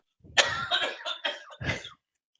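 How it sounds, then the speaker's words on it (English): A short burst of several harsh coughs in quick succession, fairly close, with brief gaps between them and nothing else around. "I heard him coughing in the background."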